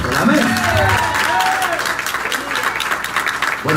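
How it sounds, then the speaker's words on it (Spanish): Applause from a church congregation at an evening service, a broad, steady wash of clapping and crowd noise that fills the whole stretch at close range, with voices audible through it. "¿Por qué no le damos un fuerte aplauso al apóstol?"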